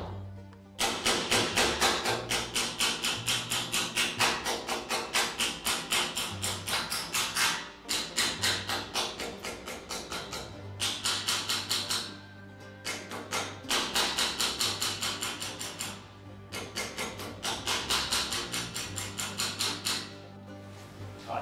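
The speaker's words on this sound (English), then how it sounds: "I was just letting the hammer do the work and the weight of the tool just swinging in my hand and coming down and tapping" A hand-held hammer taps sheet metal into shape while shrinking and stretching a panel edge, producing fast, even bursts of ringing metallic strikes with short pauses between runs, close and loud.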